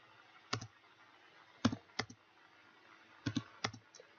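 Several scattered keystrokes on a computer keyboard, sounding as isolated clicks in small clusters against a quiet room hum, moderately close and fairly soft.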